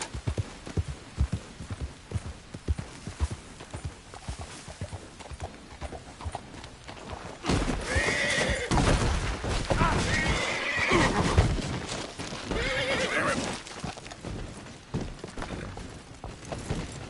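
Horse hooves clip-clopping at a gallop in a video game, with a loud whinnying neigh rising midway over the steady hoofbeats, while someone talks over the game sound.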